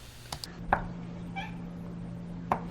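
A cat gives a single short meow amid kitchen noise, with sharp knocks and chopping taps before and after, all over a steady low hum.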